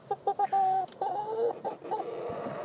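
Chickens in a snowy, windy cage cluck in a quick run of close, fairly loud calls, followed by softer scattered clucks and rustling.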